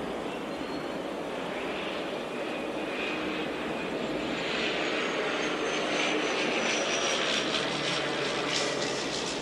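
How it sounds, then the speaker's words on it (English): A float plane flies overhead, its engine drone steady and moderately loud, swelling slightly as it passes, heard outdoors without talking. "And a float plane is coming in overhead."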